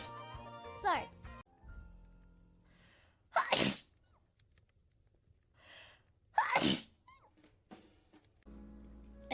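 Someone sneezes twice, each a sharp, loud burst spaced a few seconds apart, with a short stretch of voice at the start and quiet, soft breathing between the sneezes.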